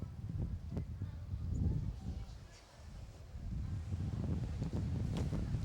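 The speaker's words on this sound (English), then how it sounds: "another gust of wind starts to burst." Wind gusts across an outdoor baseball field, a rumbling microphone-buffeting roar that swells, dips and rises again, with faint distant sounds underneath.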